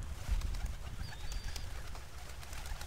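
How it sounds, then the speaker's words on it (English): Pigeon-like cooing from the bird in the video game A Bird Story, low soft coos repeating over a steady low rumble of game ambience, with no talking. "there's a bird in there, probably"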